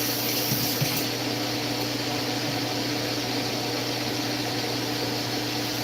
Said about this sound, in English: I'm going to go ahead and rinse my hands off.